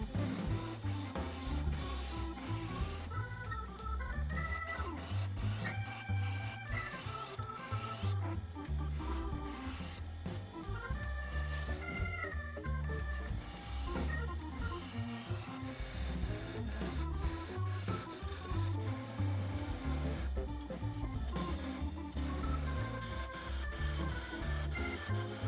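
A wood lathe turns a square wooden blank while a tool rounds it over for a natural edge bowl lid, making a continuous, fairly quiet rumbling and scraping with an uneven, thumping rhythm throughout.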